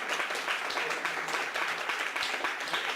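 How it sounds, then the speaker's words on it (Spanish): An audience at a live science talk breaks into dense, steady applause that fills the room for a few seconds at a moderate level, with no other sound over it. "Un aplauso, por favor, para Rick and Morty."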